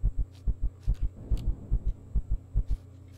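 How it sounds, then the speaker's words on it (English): Stamina heartbeat effect in the survival game Empyrion, a steady low double-thump pulse repeating about a dozen times, close and prominent over a faint background hum with no talking. "And that heartbeat, that's my stamina."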